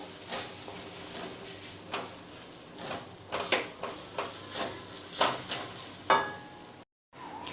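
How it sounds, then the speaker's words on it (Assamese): Grated coconut frying in a pan over a medium flame, with a faint sizzle under repeated scraping strokes of a spatula against the pan, each stir a short, close swish in an uneven rhythm. "মিডিয়াম ফ্লেমত এনেকৈ ভাজিব লাগিব।"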